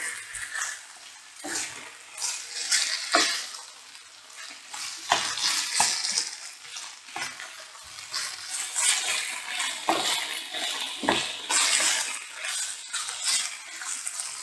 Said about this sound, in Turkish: Biraz salçanın kokusu çıkana kadar kavuracağım.